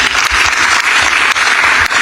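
An audience at a stakeholder meeting claps in loud, dense applause, many hands at once, close and continuous for a couple of seconds.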